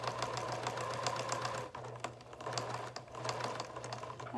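A sewing machine stitches a baby blanket in fast, even bursts of needle clatter, pausing briefly mid-seam before resuming, close and moderately loud.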